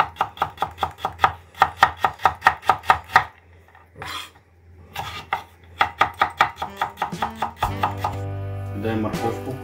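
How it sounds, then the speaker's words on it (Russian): Carrots are chopped on a cutting board with a knife in quick, evenly spaced crisp knocks, several bursts broken by short pauses, followed by a brief clatter of kitchenware at the end. "Нарезаем морковку,"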